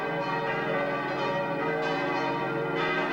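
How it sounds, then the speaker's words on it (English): Church bells ring out together on a Sunday morning in Lucerne, Switzerland, in a rich, sustained peal, overlapping tones blending continuously without pause. "Church bells break the silence on Sunday morning in Lucerne."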